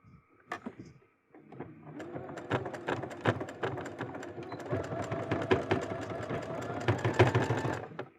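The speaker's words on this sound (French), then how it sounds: "rabattre mes bretelles et faire une petite surpiqûre au niveau des bretelles" Sewing machine running in steady bursts while topstitching the folded-down straps of a bustier, a close, rhythmic mechanical stitching whir with brief pauses and a few sharp clicks, no talking.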